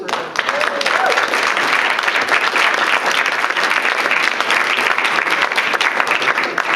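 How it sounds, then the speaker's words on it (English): An audience at a Eugene community panel on cities and sustainable consumption breaks into loud, sustained applause for the guests, a dense even wash of clapping that lasts the whole stretch. "But first, some applause for our guests."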